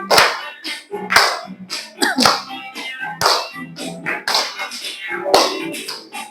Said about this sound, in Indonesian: Boleh semua tepuk tangan?